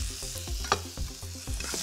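Garlic and vegetables, including tomatoes, sizzle in a frying pan as they are stirred, a steady hiss broken by rhythmic scraping strokes, close and with no talking.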